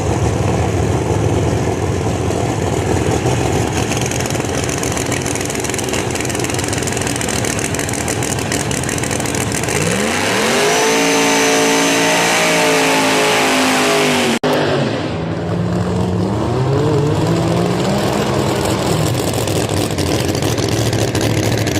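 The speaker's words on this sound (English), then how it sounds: "I hear the V6 coming up." A V6-powered drag race car accelerates down the track at a Wednesday test session at US 131 Motorsports Park, its engine rising from a steady loud roar into a climbing, high-revving pass with clear gear changes before fading away.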